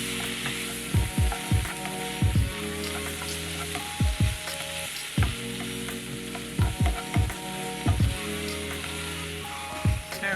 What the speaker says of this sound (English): I'm going to give this one more stir.